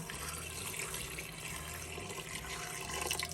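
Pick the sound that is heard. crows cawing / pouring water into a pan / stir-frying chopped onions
pouring water into a pan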